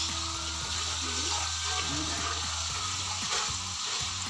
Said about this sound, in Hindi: अदरक लहसुन को हम फ्राई कर लेंगे।